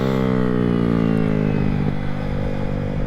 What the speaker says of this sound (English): You hear the throttle?